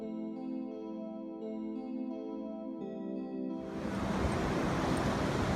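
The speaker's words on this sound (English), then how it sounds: "Waves crashed on the fine sandy beaches in Oregon." Pacific Ocean surf on a fine sandy Oregon beach enters as a loud, broad, continuous wash of crashing waves after a stretch of tonal music.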